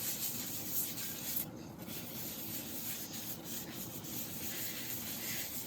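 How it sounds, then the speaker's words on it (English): Steady, close rubbing of sanding sealer onto turned burl wood, a continuous dry friction with slight variations in pressure and no pauses. "I'm rubbing it a little longer before I'm turning it, but it's that sanding sealer"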